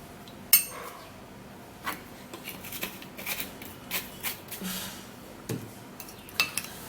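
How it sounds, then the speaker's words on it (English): Baking soda and onion mixture being stirred, heard as faint, scattered scrapes and light clinks of a utensil against a dish at close range, quiet throughout and without speech. "and then we'll give it a stir"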